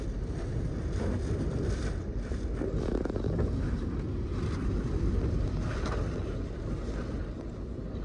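Strong wind roars and buffets steadily with a dense wash of heavy rain, shaking a car parking shed in Ras Al Khair, a constant loud rumbling rush without pauses.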